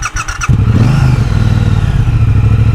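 Triumph Bonneville Speedmaster motorcycle engine, a brief clattering start followed by a loud, steady low rumble held just over idle, close by with no talking.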